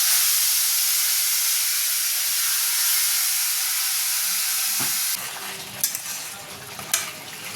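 A spice paste of ginger, garlic, onion, green chilli, tomato and a little cashew sizzles loudly in a hot pan with a steady bright hiss, then drops to softer frying with a few stirring clatters.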